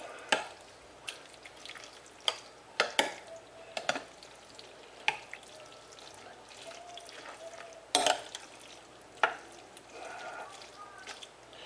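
Spaghetti noodles being stirred together with sauce for a baked spaghetti dish give off soft, wet, sticky squelches and scattered sharp clicks of the utensil, irregular and close, with no talking.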